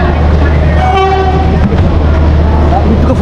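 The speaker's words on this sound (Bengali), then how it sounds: "বলতে বলতে ট্রেনও ঢুকে গেছে" A train pulls into a busy station platform at the 11th platform, a loud rumbling arrival with a brief horn tone near the one-second mark, over a steady crowd din with faint voices.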